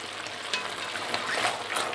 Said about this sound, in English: I'm just gonna let this cook and start crisping with its own rendered fat